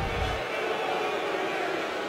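A displeased basketball crowd at an Oklahoma home game against Texas, a broad steady roar of boos and murmurs filling the arena, continuous and fairly loud throughout.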